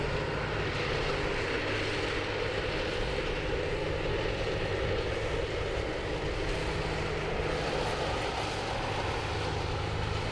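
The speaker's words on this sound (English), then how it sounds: "It's an A320. We'll start rolling out here on runway 34 left" An Airbus A320 rolling out on runway 34 left at Sydney Airport, a steady, continuous engine roar heard from a distance and holding at an even level throughout, with no voices.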